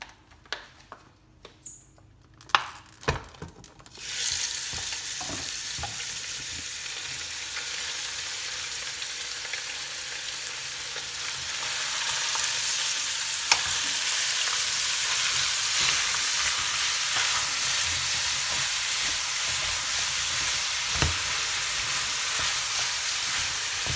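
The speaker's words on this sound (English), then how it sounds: "So basically you have to continuously be stirring the meat so that it doesn't burn." Ground meat for enchiladas sizzles steadily in a pan over the highest heat, with scattered scrapes and clinks of stirring; the frying starts softly after a few early knocks and grows into a loud, continuous hiss.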